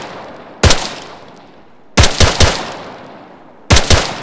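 Three close bursts of automatic gunfire in a military shooter video game, each a sharp loud volley of a few rapid shots with decaying echo, separated by short pauses.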